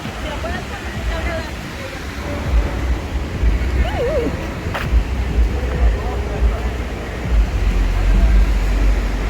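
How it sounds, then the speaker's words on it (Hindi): A waterfall's rushing water pours down below a lookout, a loud continuous broadband roar with wind-like noise, and a faint voice briefly heard in the mix. "ये देखिए नीचे पानी कैसे जा रहा है।"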